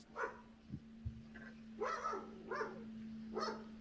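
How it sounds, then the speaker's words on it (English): A dog barks several times in the background of an indoor recording, faint yips spaced out over a steady electrical hum, with no speech. "I hope you can't hear the dog in the background"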